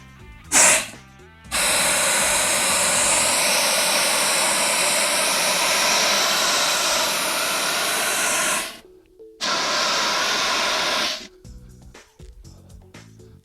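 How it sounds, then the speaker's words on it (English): A 10-pound CO2 fire extinguisher blasts a loud, steady roaring hiss for about seven seconds after a short opening burst. It stops, then gives a second discharge of a couple of seconds, and the clip ends in quiet clatter. "Notice, nozzle is cold, discharging CO2."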